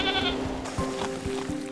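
Goats grazing weeds in an Edmonton park give a short, wavering bleat, close and clear, followed by a few soft thuds and rustles from the animals.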